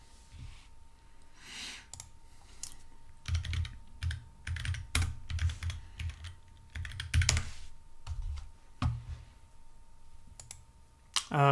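Rapid clattering keystrokes on a computer keyboard come in uneven bursts with short pauses between them, close and moderately loud over a quiet background hum, with no talking.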